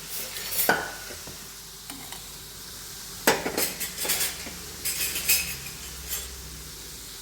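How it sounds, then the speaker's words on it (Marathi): A slotted spoon stirs raw banana chips frying in hot oil, a faint steady sizzle broken by close scraping and metallic clinks against the pan in irregular bursts. "आता हे झारण्याने मी चांगले हलवून घेते एकदा हलवून घ्यायचे आणि चांगले तळायचे"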